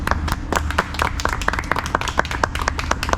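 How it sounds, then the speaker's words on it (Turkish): A small group of men claps during a muscle-up training session, each sharp hand clap distinct and close, in an uneven, fairly quick patter over a low background hum. "Beyler bir alkış"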